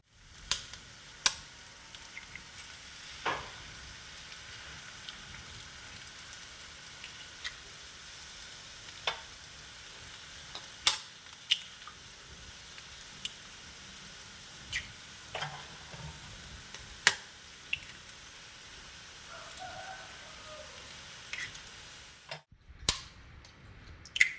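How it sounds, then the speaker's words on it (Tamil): Eggs are cracked and poured into a hot pan of cooked beans and vegetables for Tamil egg rice, making a steady background sizzle broken by a series of sharp, loud cracks and taps at irregular intervals, with no voices. "இப்போ முட்டை உடச்சி ஊற்றலாம்."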